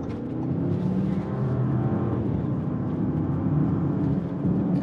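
A 2021 Bentley Bentayga accelerates at part throttle up an open hill on a mountain road, its engine a loud, steady, deep drone that builds smoothly and stays strong throughout.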